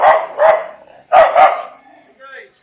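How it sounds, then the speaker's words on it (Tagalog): A small dog barks sharply in two quick pairs of yaps, close by, followed by a brief faint whine. "Tingnan nyo yung maliit na aso niyan."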